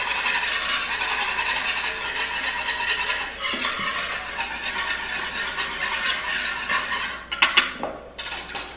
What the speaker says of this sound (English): Whisk in oil.